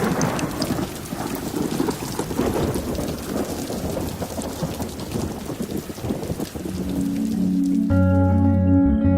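A heavy thunderstorm pours loud, dense rain with rumbling thunder, a continuous wash of downpour that swells in intensity toward the end.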